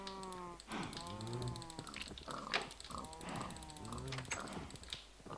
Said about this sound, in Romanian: Hai să mai înmulțim porci.